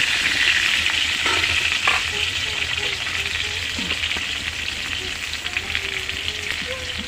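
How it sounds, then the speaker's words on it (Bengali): Food deep-frying in a pan until golden, for biryani, with a loud, dense, continuous sizzle close up and occasional stirring scrapes; no speech. "ভেজে নিচ্ছি।"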